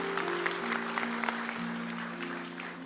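A church congregation applauds for God, a sustained spread of clapping with a few sharper individual claps, while a low steady tone, likely from a keyboard or organ, holds and shifts pitch underneath.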